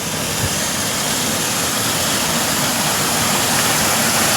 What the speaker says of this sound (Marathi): आता तर हा धबधबा आहे ना देवावर पाणी पडत आहे